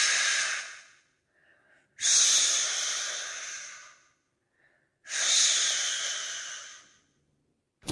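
A voice imitates whooshing wind with drawn-out "sh" sounds, three long breathy bursts separated by short silences, close and fairly loud.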